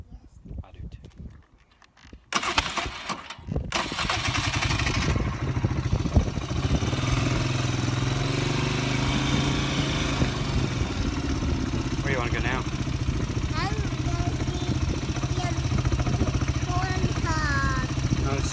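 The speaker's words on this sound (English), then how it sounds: "You like riding the four-wheeler?" A four-wheeler ATV engine runs steadily while riding across a field, a continuous mid-pitched drone after a short quieter start, with an adult and someone talking over it.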